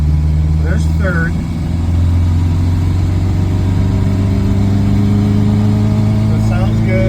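A Regal 3 car with a 600 cc engine accelerating in third gear, a loud steady low drone with a constant hum throughout, while a person talks over it.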